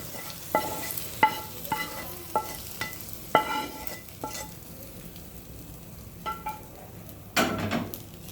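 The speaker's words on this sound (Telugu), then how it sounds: "ఈ తాలింపుని మనం ఇప్పుడు ఈ అన్నంలో యాడ్ చేసుకోవాలి" A spoon scrapes and taps against a pot in irregular strokes as tempering is stirred into cooked rice for tamarind pulihora, with quiet clinks over a soft background.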